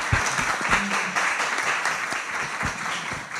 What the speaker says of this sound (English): let's give a big applause to the table